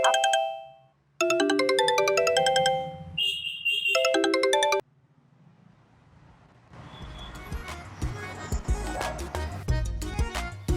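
A melodic phone ringtone chimes in bursts, pausing briefly, then fades into quiet hiss before busy clattering noise and muffled voices rise.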